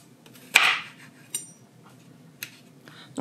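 A knife cuts through a fleshy aloe vera leaf, giving a few sharp, separate clicks and thuds against a hard surface, one louder snap followed by lighter taps, close and quiet between cuts with no talking.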